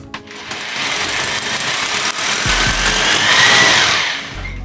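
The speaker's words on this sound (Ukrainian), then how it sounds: "Не люблю це. Перфораторні роботи." A loud hammer drill grinds into a wall, a harsh continuous rattling roar that runs almost without pause.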